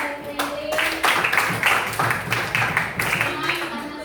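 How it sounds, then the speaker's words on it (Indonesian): A class of students in a school lesson claps hands in a rhythmic series of sharp, near claps, some falling in unison, with voices faintly underneath. "Tepuk tangan untuk jawaban dari training."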